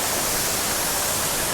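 Heavy rainwater rushing over a spillway, a steady broadband roar like a waterfall, loud and constant with no break throughout.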